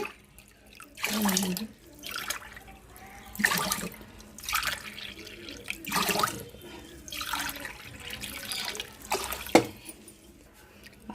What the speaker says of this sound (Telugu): ఇప్పుడు వాటర్ వేసుకుందాం అదే గ్లాస్తో ఆరు గ్లాసులు వాటర్ వేసుకోవాలండి